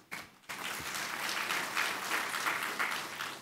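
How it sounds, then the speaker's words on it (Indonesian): An audience applauds at the inauguration of the Beluluq Lingau people's market in Samarinda, sustained clapping from a crowd at moderate distance after a brief opening burst. "Kita beri aplaus."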